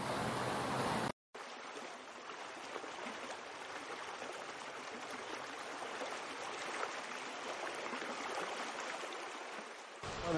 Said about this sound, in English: Behind us here, this beautiful backdrop of one of the major features of the reserve is the Escondido Creek.